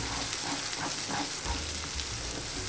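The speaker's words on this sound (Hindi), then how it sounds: "टमाटर भी मिक्स कर लेती हूँ।" Ground tomato and green chilli paste frying in a pan for lauki sabzi, a steady close sizzle with soft scraping stir strokes throughout, no voices.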